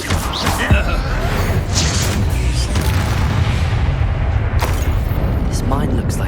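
A fiery Confringo spell blast in the Hogwarts Legacy video game, a dense booming explosion that rumbles loudly and continuously for several seconds, with a sharp crack near the start.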